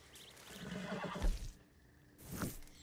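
Horse in Red Dead Redemption 2 Online giving a loud, close whinny, then a second shorter neigh after a brief pause, with faint hoof clops in the game's ambience.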